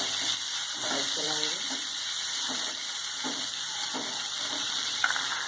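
French beans and carrots are stir-fried in a pan for Schezwan fried rice, giving a steady close sizzle broken by a few scraping stirs and clinks of a spoon, with no talk.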